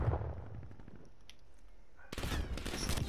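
Gunfire in the video game Call of Duty Black Ops Cold War crackles in rapid bursts, fainter at first, then a dense loud volley near the end, with someone talking over it.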